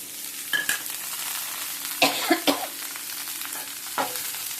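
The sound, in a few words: vegetables (carrot, beans) frying and being stirred in a pan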